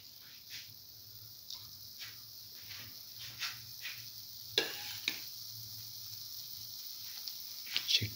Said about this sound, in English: Now mix in the cooked rice